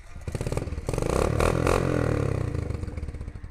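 A Kawasaki KLX110 dirt bike engine, just given fresh oil and a new oil filter, fires up and settles into a loud, close, steady idle with a throbbing mechanical clatter.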